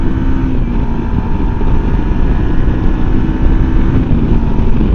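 A MUTT Stravaig 401 motorcycle is ridden at speed with a loud, continuous low engine drone, heavily mixed with buffeting wind roar on the microphone.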